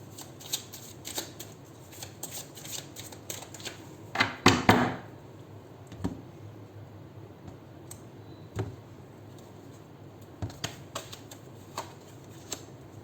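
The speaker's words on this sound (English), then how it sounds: "We'll also shuffle these cards and get you one advice card from the Romance Angel." Tarot cards riffled and shuffled repeatedly, with bursts of papery flutter and soft clicks, a louder riffle midway, close and alone.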